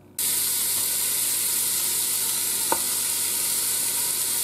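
Olive oil sizzles steadily in a Ninja Foodi pressure cooker pot, a bright, close hiss that starts abruptly and holds constant for several seconds, with one small tap partway through and no talk.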